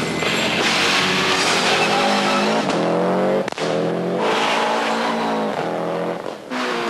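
Rally car engine roars and revs continuously from Colin McRae Rally, the video game, with pitch sweeping up through gear changes, brief dips between shifts and a hint of tire skidding, loud and close, no voices.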